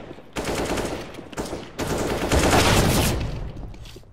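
Rapid gunfire from a CZ pistol in a competitive online shooter, loud bursts of shots in two dense clusters filling most of the moment, with no talking over them.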